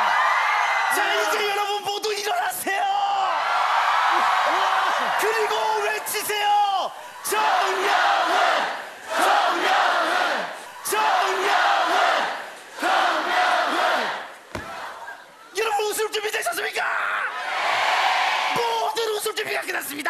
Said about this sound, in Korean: 자, 이제 여러분 모두 일어나세요! 그리고 외치세요!